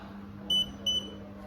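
Two short electronic beeps from an emergency alarm buzzer on an HMI control panel, steady high tones repeating about a third of a second apart over a constant low electrical hum.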